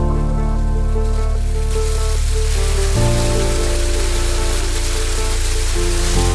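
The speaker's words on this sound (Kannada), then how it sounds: "ಆಲ್ರೆಡಿ ಮಳೆ ಬರ್ತಿದೆ ಯಾವಾಗ್ಲೂ." Heavy rain falling at Kavaledurga near a large waterfall, a loud, dense and continuous roar of water that stays even throughout, with no voices.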